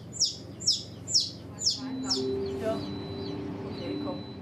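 Newly hatched chicks in a commercial hatchery give a run of five sharp high peeps at a steady rhythm, then softer overlapping cheeps continue under a low background hum.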